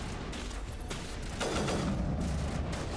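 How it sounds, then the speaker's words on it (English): A rocket explosion in Mass Effect Legendary Edition lands as a muffled boom amid rumbling battle noise, with faint background clatter around it. "Ah, that's a rocket."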